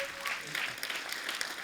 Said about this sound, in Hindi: जोरदार तालियां हो जाए एक बार हमारे अतिथियों के लिए।